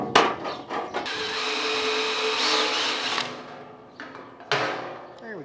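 A power tool drives a bolt while fitting a skid shoe onto a Hesston PT-10 hay mower, heard as a close, loud whirring run of about two seconds, followed by a shorter burst.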